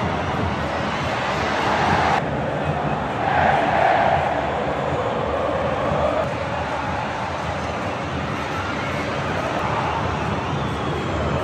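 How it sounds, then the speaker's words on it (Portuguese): Fluminense supporters celebrating a Carioca championship win over Flamengo at Maracanã stadium, a massive sustained crowd roar with chanting swelling and fading, heard from down on the pitch. "uma festa surreal da torcida do Fluminense"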